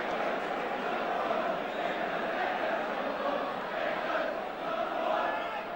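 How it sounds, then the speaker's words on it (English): A football stadium crowd at Aston Villa versus Leicester City chants and cheers for goalkeeper Sprink, a broad, steady roar of many voices swelling slightly, sustained throughout at a distance. "the cry from the crowd about Sprink is England's #1"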